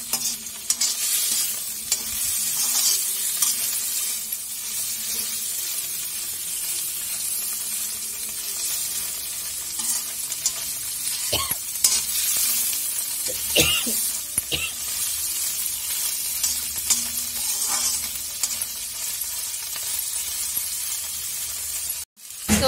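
Paneer frying in a pan while Singapuri chowmein is made, a steady loud sizzle with occasional scrapes and stirring clatter near the end, no speech.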